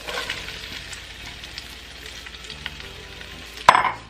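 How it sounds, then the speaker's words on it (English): Vegetables sauteing in olive oil in a pan give a steady, soft sizzle throughout, then a sharp, louder hiss near the end. "now we're going to go ahead and put some more olive oil in our pan. And we're going to start sauteing the vegetables."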